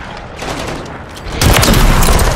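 Combat in the shooter game Call of Duty: Modern Warfare 3, with distant crackling gunfire before a loud, close grenade blast erupts and rumbles on to the end.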